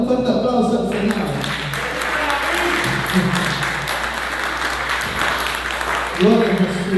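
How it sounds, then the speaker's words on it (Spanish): Loud, sustained applause from a church congregation praising God, steady dense clapping lasting throughout, with a voice speaking over it. "Dale un fuerte aplauso al Señor."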